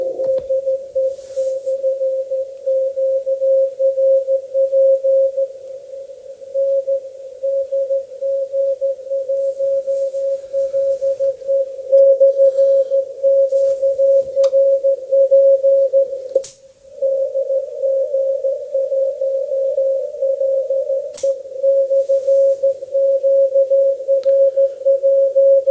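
Morse code keyed on a steady single-pitch tone through the audio peak filter of a ham radio transceiver, near and continuous with brief gaps, over quiet background hiss and no talk.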